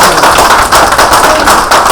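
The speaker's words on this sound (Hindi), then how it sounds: "जोरदार तालियां होनी चाहिए कि नहीं होनी चाहिए?" Loud, dense applause from an audience at a real estate training session, with steady, continuous clapping that stays close and full throughout.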